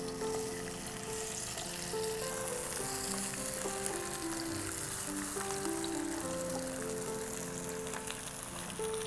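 Salted potato slices fry in hot oil, a dense, steady crackling sizzle heard up close with no pauses and no talking.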